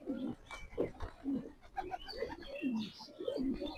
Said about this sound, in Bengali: আমি জালালি কবুতর বাড়াচ্ছি